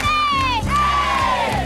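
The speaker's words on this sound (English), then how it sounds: "We call it the Walmart Cheer." Walmart employees chanting their morning company cheer in a large group, a loud crowd shout with one sustained rising-and-falling call, indoors at the store before opening.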